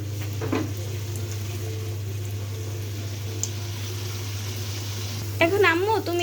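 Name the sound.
spice paste (masala) sizzling as it fries in oil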